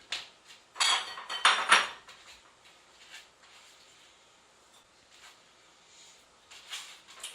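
A knife cuts tomato and onion on a board for an East Coast donair, making a quick cluster of close clicking, scraping chops and then scattered lighter taps and knocks that fade toward a few final clicks, with no talking.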